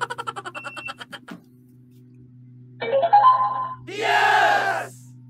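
A KTS 1753 double 4-inch RGB Bluetooth speaker plays its pairing prompts: a rapid train of short beeps, a pause, then a brief chiming phrase and a bright rising jingle as the two units sync.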